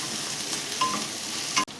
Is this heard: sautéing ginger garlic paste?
yes